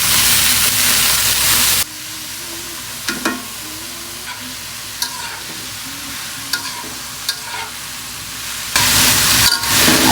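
Potatoes frying in hot oil with onions, a loud hissing sizzle broken by repeated spatula scrapes and clacks, softening in the middle before swelling again, close and steady without talk.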